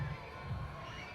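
Kids cheering at a BMX race: a brief, faint burst of crowd noise and children's shouts from a distance.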